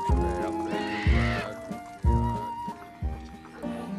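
A cartoon horse in a Lucky Luke western episode gives a brief, rising whinny over a bouncy musical score with regular thumping bass beats.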